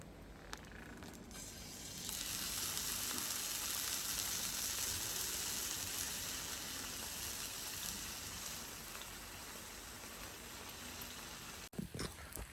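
Fish frying in a little oil in a pan while camping overnight at a fort, a steady hissing sizzle that switches on and holds continuously, ending with a sharp knock.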